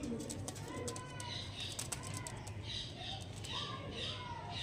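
Andhra tournament pigeons coo softly in a loft, a faint, continuous murmur of several birds with occasional chirps over a busy background.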